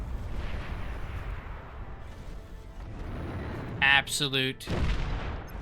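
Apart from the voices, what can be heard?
Banisher missiles exploding in a video game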